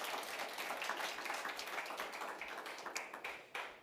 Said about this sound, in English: So Dr. Rubin, please give a round of applause